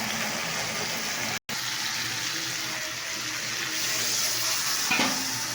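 Cumin and chilli powder frying in a hot pan, giving a steady sizzle with soft stirring scrapes throughout, a brief silent gap near the start and a small clink near the end.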